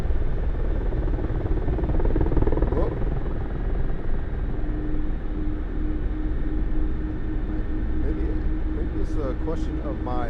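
The engine and rotor of a Mi-24 Hind helicopter in the DCS flight simulator produce a continuous low drone and whine for the whole stretch, with someone talking over it and a short alert tone partway through.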